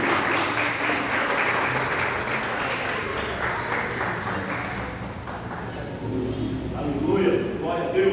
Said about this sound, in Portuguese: dando uma linda salva de palmas para o Senhor